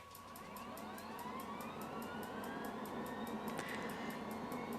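A Hughes 500C helicopter engine starts up in a flight simulator game: a faint, steady rising turbine whine builds gradually, accompanied by an evenly spaced ticking of the ignition.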